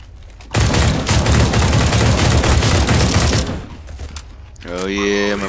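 Rapid bursts of automatic gunfire from the video game CS:GO, loud and continuous for about three seconds, then a quieter stretch of game ambience before a short tonal game sound near the end.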